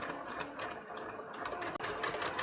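Sewing machine running a steady, continuous stitch at 3.2 stitch length, catching collar seam allowances about an eighth inch in, with one brief pause near the end.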